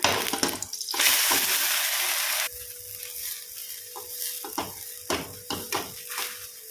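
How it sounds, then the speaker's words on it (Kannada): Protein-rich dosa frying in oil on a pan, a loud steady sizzle for the first few seconds that drops to a quieter crackle with intermittent scraping and stirring clatters. "ಒಳ್ಳೆ ಫ್ರೈ ಆಗಲಿ, ಇದು ಸ್ವಲ್ಪ ದಪ್ಪ ಇರ್ತದಲ್ಲ, ಒಳ್ಳೆ ಬೇಯಬೇಕು, ಫ್ರೈ ಆಗಬೇಕು"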